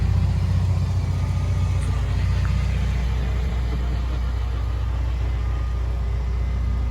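A Honda Civic EP3's engine rumbles steadily at close range, a low continuous drone with road noise and no speech, the car pulling away.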